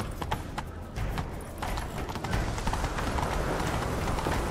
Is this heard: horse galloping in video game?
yes